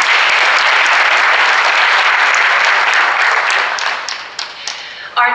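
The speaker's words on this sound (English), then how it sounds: "Why don't we give Mr. Seo and Mr. Jung another round of applause for their presentation." An audience at the 2015 Samsung SSD Global Summit in Seoul gives a sustained round of applause, a dense wash of many clapping hands that thins into scattered claps before ending.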